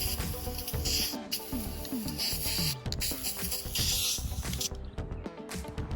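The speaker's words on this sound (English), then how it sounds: "so we got a couple coats of spray paint on there now" Spray paint hissing from an aerosol can onto a DIY custom desk in steady close bursts, a continuous airy spray with small pauses and rattly handling noises, no talking.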